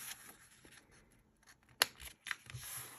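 Scissors pressed and drawn along a folded paper crease while making a small handmade book, heard as a quiet rubbing with one sharp, brief scrape near the middle and a second smaller one shortly after.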